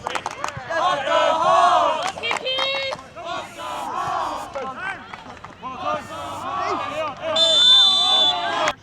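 Crowd of about 80 to 100 spectators at a semi-pro U.S. Open Cup soccer match between St. Louis and Chicago House AC, shouting, cheering and chanting steadily with overlapping voices and occasional claps.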